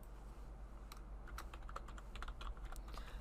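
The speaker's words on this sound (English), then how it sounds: "So I can actually type in text." Keys clatter on a computer keyboard while text is typed into a collaborative whiteboard during a Zoom teaching session, a steady run of close, light clicks over low background hum.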